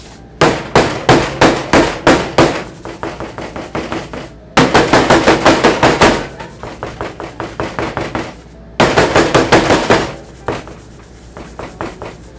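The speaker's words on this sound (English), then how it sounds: "bang it out and make it a little bit more even and get any air bubbles out of it." Baking pan filled with brownie batter banged repeatedly against a counter to remove air bubbles, three loud runs of rapid sharp knocks with short pauses between them, close and without talking.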